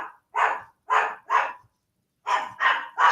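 A dog barks in two bursts, three sharp barks then a pause and three more, loud and close with silence between.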